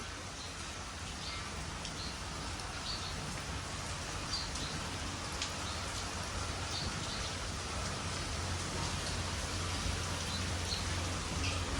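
Heavy rain falls over a village in a steady, even hiss of drops that holds unchanged throughout, fairly faint and distant, with no voices.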